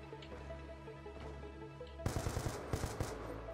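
Video game gunfire from a sentry gun match: after a quiet stretch, rapid automatic bursts crack out loudly, several fast volleys in a row.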